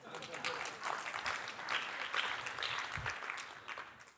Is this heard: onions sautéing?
no